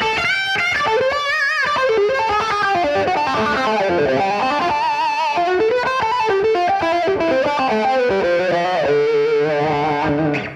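Distorted electric guitar in a blues style played through humbucker pickups, a continuous loud run of bent, sustained melodic notes and phrases heard alone.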